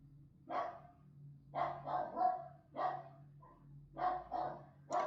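A dog barks in several short bursts, some doubled, spaced irregularly over a low steady hum, fairly faint and somewhat distant, with no talking.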